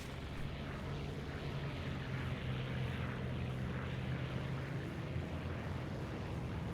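A Mosquito J30 propeller aircraft engine in War Thunder hums with a steady, even drone at moderate volume, a faint sustained tone running through it, no voices.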